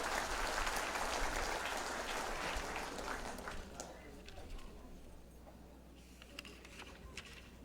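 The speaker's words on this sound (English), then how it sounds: "let us give a big round of applause to our parents" Crowd applause at the Philippine Military Academy recognition rites ceremony, sustained clapping that gradually thins out, with voices talking beneath it.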